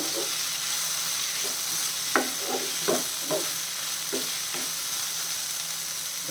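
Curry leaves and chow chow frying in hot oil for a chutney give a continuous loud hiss and crackle, broken by a few soft scrapes of stirring in the pan, with no one speaking.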